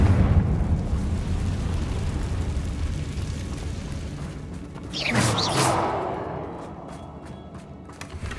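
Confringo spell explosion in the Hogwarts Legacy video game: a rumbling blast swells midway with a sharp whooshing burst, then decays into falling debris and crackling over a constant low background rumble.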